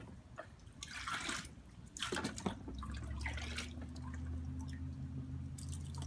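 Water is poured and dumped out of a container during outdoor play on a hot day, with splashing, trickling and dripping at close range, fairly quiet, followed by a low steady hum.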